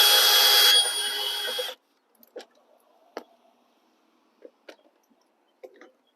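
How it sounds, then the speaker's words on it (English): A power tool whirs loudly for under two seconds while removing a door hinge bolt on a 2021 Jeep Wrangler Unlimited, followed by scattered faint clicks and clanks of metal handling. "I'm just going to take out that hinge bolt."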